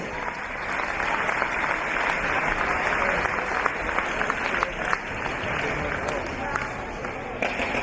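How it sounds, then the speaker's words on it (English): Sustained applause from a large crowd at a championship women's grand final, steady dense clapping for the runners-up that carries on for several seconds. "a big round of applause for your runners-up"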